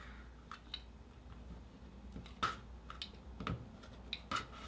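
Fabric for a quilt block being trimmed, likely with a rotary cutter along a sewn seam, gives a few short, quiet cutting and clicking sounds spaced over several seconds against a faint room background.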